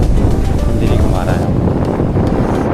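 Strong wind buffets the microphone during rockfish fishing, producing a loud, continuous low roar with rumbling gusts, while someone talks briefly over it.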